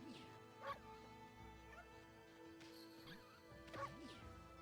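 Two short dog barks from the video game Okami, one early and one late, ring out over steady game background music.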